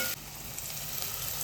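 Tomatoes dropped into a hot pan for a crab curry, a sudden rise into a steady close frying sizzle with faint stirring scrapes, with no voice.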